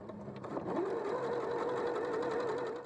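A sewing machine runs steadily for several seconds, stitching with shirring elastic wound in the bobbin. The motor holds an even, continuous hum close to the microphone, with no talking.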